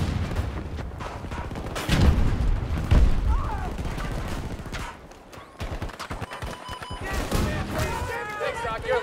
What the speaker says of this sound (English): Heads down! Tossing a grenade!